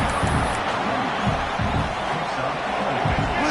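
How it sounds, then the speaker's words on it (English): A loud college football stadium crowd roars in a dense, sustained wash of cheering in the early going of a UCLA game, with a commentator's voice running over it. "Listen to the crowd energy here in the early going."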